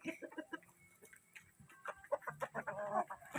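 RIR chickens in a mixed backyard flock cluck and cackle continuously and close by, with overlapping calls building toward the end.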